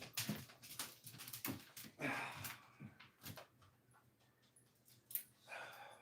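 A puppy whimpers and pants in short, uneven bursts close by, with soft shuffling and a low steady hum in between.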